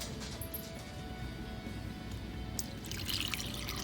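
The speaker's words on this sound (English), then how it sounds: "and then we'll fill with water." Water poured into glass canning jars during food preservation in a home kitchen, a steady close trickling and splashing stream that runs continuously without pauses and without talk.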